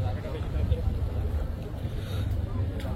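A river launch's engine rumbles low and steady under wind noise aboard the ferry, with faint voices in the background.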